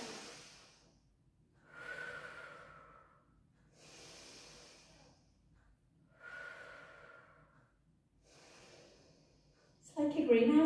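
Slow, audible breaths drawn in and let out during a Pilates rehabilitation session, repeating in a steady rhythm of about five close breaths with a soft hiss, followed by a brief louder burst at the end.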